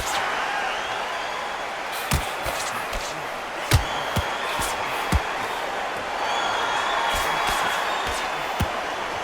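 Crowd at a boxing arena during a Mayweather versus Canelo fight keeps up a steady buzz, with sharp slapping thuds of landed punches popping out now and then.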